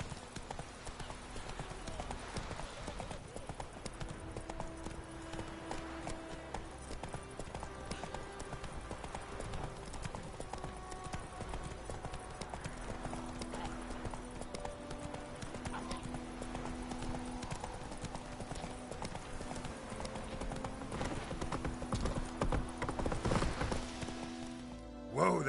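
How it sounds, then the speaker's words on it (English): Hooves of the horse Roach clip-clop steadily in the Witcher 3 video game, a continuous trotting rhythm under game music, with voices talking over it. "Whoa there, Roach"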